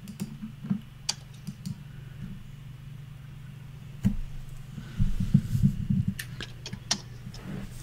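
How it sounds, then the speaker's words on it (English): Someone typing on a computer keyboard, scattered quick clicks and short bursts of keystrokes over a low steady hum, with a denser run of tapping midway. "He's still typing it."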